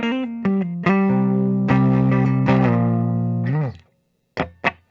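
Clean electric guitar on the neck pickup of a 2022 Gibson 1959 reissue, with a warm, round tone: several single notes and sustained chords ringing out, then silence broken by two short plucked notes.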